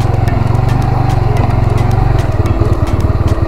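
A motorcycle ridden home from a fishing trip, its engine running steadily and loud up close with a continuous rhythmic drone throughout, no voices.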